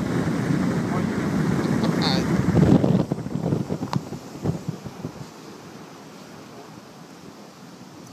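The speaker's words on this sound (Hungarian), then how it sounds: "olyan szél van, olyan durva az óceán, hogy ez ami elképesztő" Strong wind and rough ocean at Juno fishing pier: a loud, steady wind roar buffets the microphone for the first few seconds, then turns gustier and weaker, with a lower wash of surf underneath.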